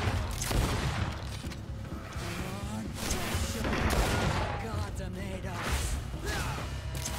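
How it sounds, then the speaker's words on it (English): Gunfire in a Greedfall battle, with repeated shots and bursts over a busy, continuous game soundscape and occasional crash-like booms spread across the clip. "I just start shooting"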